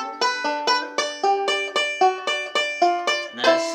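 Banjo picking a quick G lick in a bright, evenly spaced run of plucked notes with crisp attacks, played close and alone in a lesson setting.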